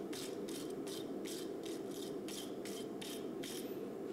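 Wire brush scrubbing forge scale off a hot forged knife blade made from forge-welded springs, a series of about ten rhythmic rasping strokes, steady and close, over a constant roar of the forge.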